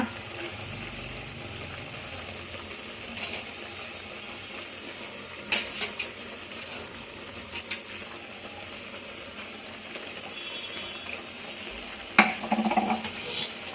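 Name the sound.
chicken frying with ground masala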